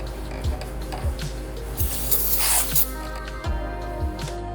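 Aerosol brake parts cleaner sprayed onto a brake rotor during a pad and rotor job on a 2012-2017 Hyundai Accent or Kia Rio, a loud close hiss bursting for about a second amid soft knocks and rag rubbing.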